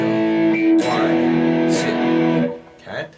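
Distorted electric guitar power chords strummed in pairs, two strokes per chord, ringing and sustained with brief pick scrapes between changes, played alone and close.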